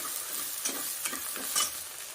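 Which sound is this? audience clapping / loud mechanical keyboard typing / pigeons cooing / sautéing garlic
sautéing garlic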